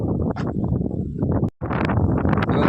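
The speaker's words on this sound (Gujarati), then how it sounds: "હવે પવન ઉપડ્યો છે" Wind buffets a microphone in loud, rough gusts, rumbling and rustling almost continuously, with one brief drop near the middle.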